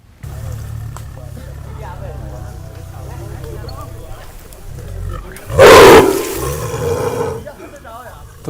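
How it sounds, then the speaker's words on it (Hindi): A tiger that has fallen into a well near Hardua, Chhindwara gives one loud, deep roar that echoes up from the well, heard over a crowd murmuring and voices talking around it. "बाघ की दहाड़ भी आप सुन सकते हैं"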